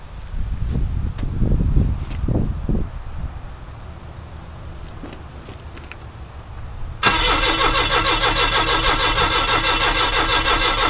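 A forklift engine cranking and firing up after several seconds of quiet clunks and knocks, then settling into a loud, steady idle.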